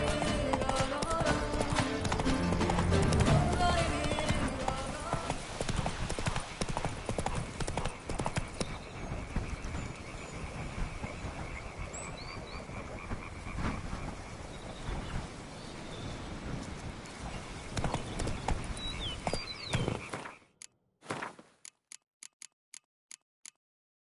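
Horse hooves clip-clop at a steady gallop in The Witcher 3, loud and continuous with rumbling ambience, then breaking into a few sparse isolated knocks as the run ends.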